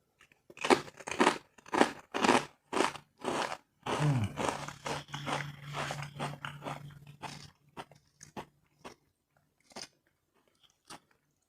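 Someone bites into and chews spicy black potato chips up close, producing a run of crisp, rhythmic crunches that thin out to a few faint chews near the end.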